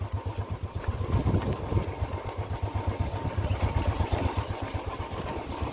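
Motorcycle engine rumbling at low revs while riding downhill on an off-road mountain track in heavy monsoon rain, a pulsing throb that stays close and fairly steady throughout with a wash of rain and wind behind it.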